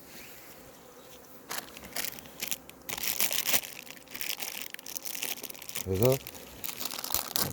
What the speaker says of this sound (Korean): 기존에 먹던 화분떡은 또 다시 비닐을 째서 얘네들이 먹을 수 있게끔 올려주시고요